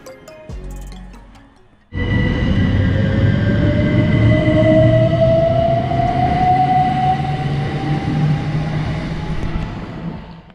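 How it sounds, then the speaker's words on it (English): A C2C train pulls away with a loud, steady rumble and a rising whine, preceded by a short quieter stretch of ambient noise. "here we can see our train departing"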